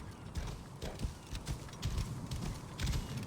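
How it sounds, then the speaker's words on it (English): A horse from the Assassin's Creed Origins video game runs with steady, rapid hoofbeats under a busy game soundscape, the clip-clop continuous and fairly loud throughout. "That's my horse!"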